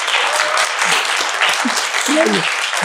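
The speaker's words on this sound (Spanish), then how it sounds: "un aplauso al doctor con mucho cariño" Brief burst of applause for a doctor at the end of a podcast recording, steady clapping at a fairly loud level with a few voices mixed in.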